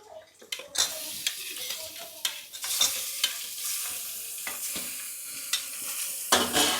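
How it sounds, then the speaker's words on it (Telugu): Chicken pieces with salt and turmeric fry in a pan while a spoon repeatedly scrapes and knocks against the metal, sharp stirring clacks over a low sizzle. "నేను ఇప్పుడు ఉప్పు వేసేసాను, అలాగే పసుపు కూడా వేస్తున్నాను. ఇంకొక విషయం ఏంటంటే చికెన్ ముక్కలు కూడా వేసేస్తున్నాను."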